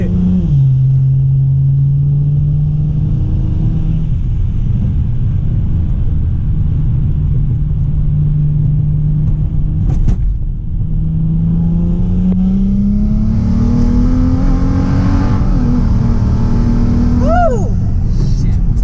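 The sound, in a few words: BMW 335i single turbo car accelerating, turbo spooling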